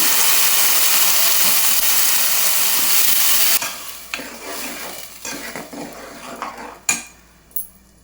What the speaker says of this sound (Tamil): இப்போ அரைச்சி வச்ச வெங்காயத்தை ஊற்றிடலாம்